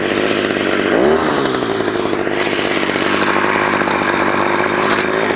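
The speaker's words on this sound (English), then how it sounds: "another option would be to use a little tiller" Small gas garden tiller churning compost in a pit, a loud, continuous buzzing engine drone close by, its pitch dipping briefly as it bites in and then holding steady.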